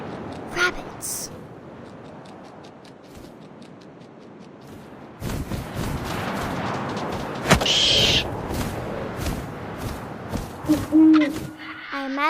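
Owl hooting in the video game What Remains of Edith Finch, a couple of mid-distance hoots amid a rising rush of ambient sound and thumps.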